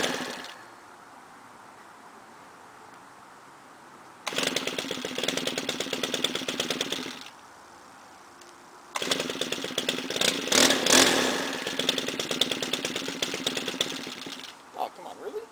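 A gas string trimmer engine catches and revs in two bursts of harsh, buzzing two-stroke noise a few seconds each, separated by quiet pauses, loud and close.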